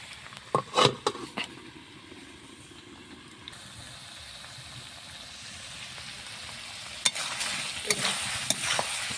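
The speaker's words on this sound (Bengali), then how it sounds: "মাংসটা আস্তে আস্তে লাড়াচাড়া করি" Mutton curry being stirred in a hot pan, with clear spoon scrapes and clatters near the start and again near the end over a steady low sizzle of frying meat.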